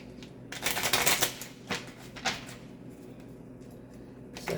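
A deck of tarot cards being shuffled close by, with a dense burst of riffling clicks early on, a second short flurry a moment later, then quieter handling.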